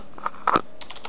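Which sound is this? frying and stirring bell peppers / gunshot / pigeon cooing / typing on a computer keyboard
typing on a computer keyboard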